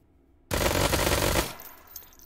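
A single rapid full-auto burst from an Uzi Nano machine pistol fitted with a muzzle brake in the VR game H3VR, about one second of dense, loud rattling gunfire that cuts off and fades quickly.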